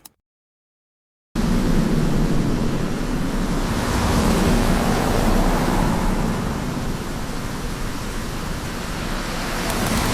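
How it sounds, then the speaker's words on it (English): AI-generated rain pouring steadily onto pavement, a dense continuous hiss with a low hum beneath, starting abruptly after a second of silence and holding at an even level. "the rain hitting the pavement and the sci-fi hum of the cars"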